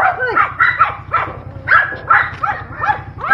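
A pack of dogs barks repeatedly at close range in quick, irregular yelps and barks that overlap for several seconds over a faint low hum.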